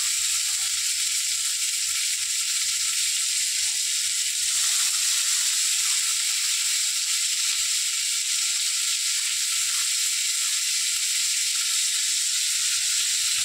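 Chopped onion frying in hot oil gives a steady, even sizzle and hiss that runs unbroken and fairly loud throughout, with no talking.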